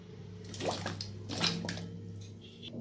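Cut yam pieces are dropped into salted water with lemon juice in a wok, making a few soft splashes and sloshing bursts, close and quiet, then a gentle trickle and settling water.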